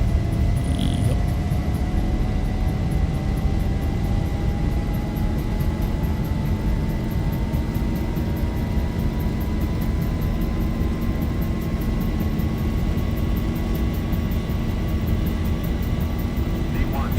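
Airliner engines during a night takeoff roll in the X-Plane 11 flight simulator, a steady loud jet roar with a slowly rising whine building through the run, continuous and close, with brief voices calling out over it.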